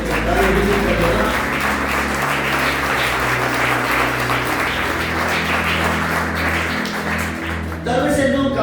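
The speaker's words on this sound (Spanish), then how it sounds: "Dale palmas a Dios." A church congregation claps in dense, steady rhythm during a Sunday worship service, with singing voices and low musical tones running underneath. The clapping pauses briefly near the end, then resumes.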